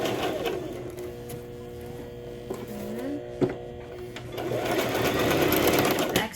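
Sewing machine stitching tulle for a child's tutu, a close, rapid mechanical whirr in short runs with brief pauses and faint handling clicks between.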